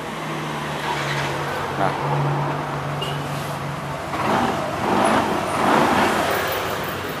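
A Yamaha NMAX scooter engine being started after a faulty starter button was fixed, its motor turning over and catching as a steady idle hum with a few revving swells, heard close in a workshop with a brief spoken word.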